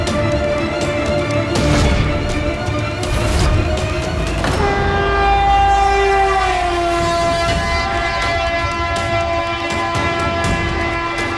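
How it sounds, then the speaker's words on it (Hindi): A train passes with a loud, sustained horn sounding over the rumble of rail cars, the horn's pitch shifting partway through as the blast continues for several seconds. "ये रेलगाड़ी की आवाज कहाँ से आ रही है"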